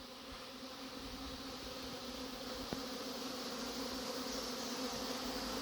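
A freshly settled swarm of honey bees fills the air with a dense, continuous buzzing hum, steady and fairly close, with no voices.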